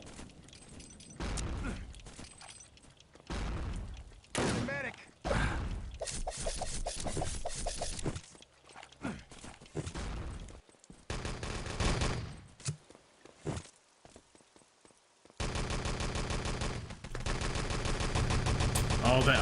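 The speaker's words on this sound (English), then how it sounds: "I saw Heya just looking at all the bushes, shooting them" Gunfire in the team shooter Enemy Territory during a 6-on-6 tournament match, bursts of rapid shots crackling among game sounds, with a dense sustained stretch of firing toward the end; a voice talks over the first part.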